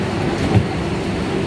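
Inside a coach of the 22303 Vande Bharat Express, a steady rolling rumble of the moving train fills the space, close and continuous with no voices.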